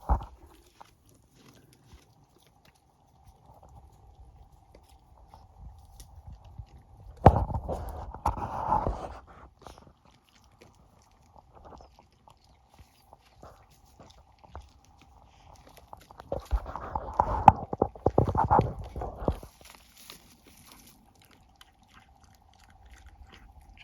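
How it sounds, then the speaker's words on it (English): A goat munching juniper berries outdoors, two bursts of close, crunchy chewing separated by quiet stretches, with faint background hum. "Jackie's munching on the juniper berries like Mabel."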